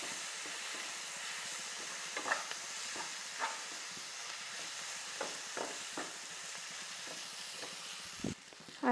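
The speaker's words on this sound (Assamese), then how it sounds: "ইয়াত মচুৰ দালিখিনি মই দি দিম।" Soaked masoor dal goes into a hot frying pan and is stirred for an onion kachori filling: a steady, fairly loud sizzle with a few sharp spoon scrapes and clacks, and a louder clatter near the end.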